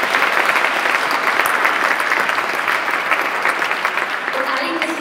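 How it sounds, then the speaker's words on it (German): Audience applause at an International Women's Day ceremony in Hamburg for a performer, loud dense clapping sustained throughout with a murmur of voices beneath. "nochmal ein ganz herzlicher Applaus für die wunderbare Herma Kühn, die wir gleich noch zweimal sehen werden."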